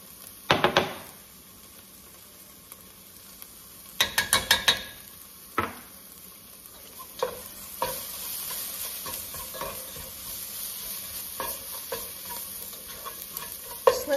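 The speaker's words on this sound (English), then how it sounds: "Let that saute a little bit." Food sautéing with smoked paprika in a pan, a steady close sizzle broken by a few sharp bursts of utensils stirring and scraping against the pan.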